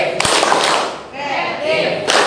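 A school class joins in a quick rhythmic 'tepuk semangat' clapping chant, sharp hand claps mixed with young voices chanting together, loud and close, with a short lull in the middle before a final burst.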